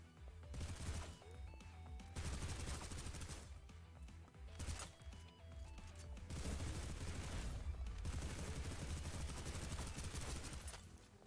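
Rapid SMG gunfire from the video game Snowbreak: Containment Zone comes in repeated dense bursts with short pauses, firing steadily across the whole stretch with no talk over it.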